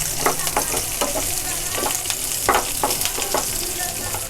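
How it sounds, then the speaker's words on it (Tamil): Onion, dried chillies and curry leaves sautéing in oil for a Kerala ulli theeyal, a steady close sizzle broken by repeated scraping stirs of the spatula. "இந்த வெங்காயத்தை ஒரு 3-4 மினிட்ஸ்க்கு வந்து நல்லா வதக்கிக்கோங்க"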